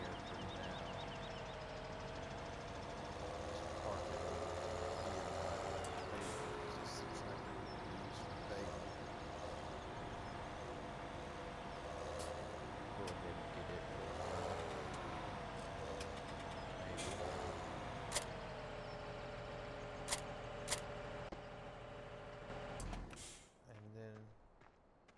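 A parked tractor idles in Farming Simulator 17, its engine holding a steady low drone for over twenty seconds, with a few faint clicks near the end before it cuts out.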